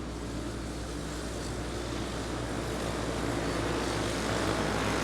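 Short track race cars accelerate on the throttle in a sustained, loud engine roar that swells steadily and holds, with no talk over it.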